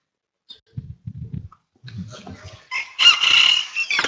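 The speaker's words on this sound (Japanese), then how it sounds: "鶏がね、コケコッコーとね、鶏が鳴くんですよね" A rooster crows in the morning, starting with low clucking grunts and building into a loud, drawn-out crow near the end, fairly close and heard alone.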